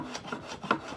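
Sandpaper rubs briskly across wood on a small practice project, a few quick scratchy back-and-forth strokes heard up close over about a second.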